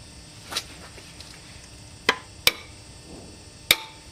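A socket wrench working on a Subaru timing belt tensioner bolt makes four sharp, isolated metallic clicks spaced unevenly over a quiet background, close and crisp.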